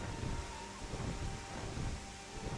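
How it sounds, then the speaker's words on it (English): Steady rain with low rumbling thunder in the Final Fantasy XIV video game, a dense continuous wash of rainfall with deep rolling swells beneath, moderately quiet with no voices. "Oh, and the rain is so nice."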